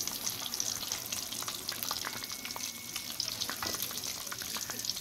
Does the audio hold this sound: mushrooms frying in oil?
yes